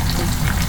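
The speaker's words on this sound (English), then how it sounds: "I'm just frying the mushrooms the second time" Mushrooms sizzle and fry in a hot pan on the stove during a second round of frying, a steady, dense crackle held at one level from start to finish.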